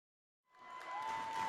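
A basketball crowd at a Harrisonville vs Pleasant Hill boys' game rises from silence into a loud, sustained roar of cheering heard from just above the stands.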